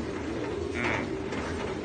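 A racing pigeon, a black check bird, coos low and steadily at close range for a couple of seconds against a faint background.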